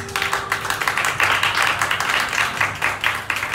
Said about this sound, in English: Everyone, give a round of applause to Marcus Bautista.